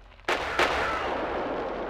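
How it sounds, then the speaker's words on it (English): Two sharp, loud grenade blasts in the Roblox game, the second following about a third of a second after the first, each leaving a long rumbling decay with no talking. "Grenade! Run, bro."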